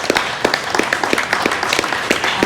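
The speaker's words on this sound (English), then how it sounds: "So thanks to everyone on the panel. Big round of applause." Brief round of applause from an audience after a green coffee market panel discussion at a roasting competition, with scattered, moderately loud claps over a couple of seconds.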